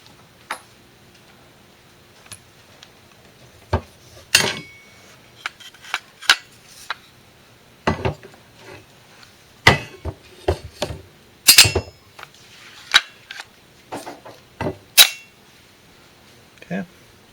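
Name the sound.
pins being put in to attach rifle upper and lower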